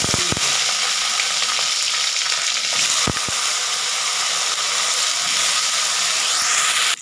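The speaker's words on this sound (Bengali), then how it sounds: "দিয়ে এটাকে একবার ভেজে নেব লাল করে ভেজে নেব" Steady crackling sizzle of cut eggplant frying in hot oil with a little turmeric, loud and continuous, with a couple of sharp clinks near the start and midway.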